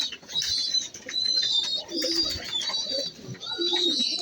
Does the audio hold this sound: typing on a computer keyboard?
no